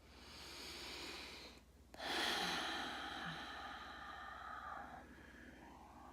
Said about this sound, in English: like a few deep breaths